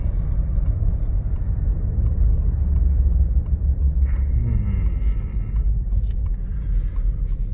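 An Acura MDX braking hard gives a steady low grumbling roar of road and brake noise, loud and continuous with a slight shift midway and no talk.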